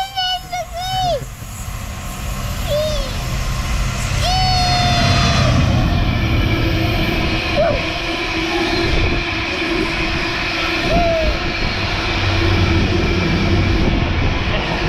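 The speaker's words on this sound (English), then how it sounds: "Oh, bloody stone trains" A long, heavy rumble of a freight train carrying stone rolling past close by, with squealing wheel tones and a voice and adult chatter over it.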